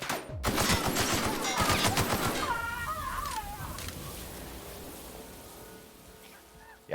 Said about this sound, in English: Where are people shooting?